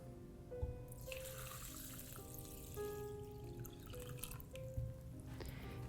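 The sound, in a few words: water being poured into a pumpkin centerpiece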